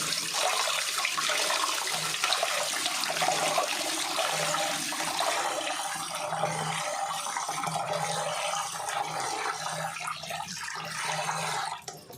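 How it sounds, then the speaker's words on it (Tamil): Ration rice being washed in water, a continuous splashing and sloshing rush that runs strongly for several seconds and then eases into softer swirling, close and fairly loud, with no one talking. "அதனால் நம்ம ரேஷன் அரிசிங்கிறனால கூட 2 தண்ணி கழுவிக்கணும்"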